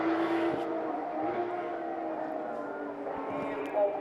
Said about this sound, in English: And here he comes, Bertram, taking the win in the long race